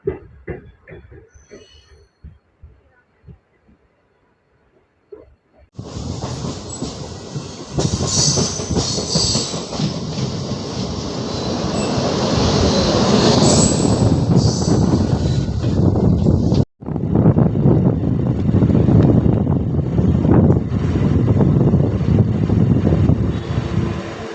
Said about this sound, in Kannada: K S R Bengaluru Chennai double decker express ಜೊತೆಗೆ ನಮ್ಮ ಟ್ರೈನು ಡಿಪಾರ್ಟ್ ಆಗ್ತಿದೆ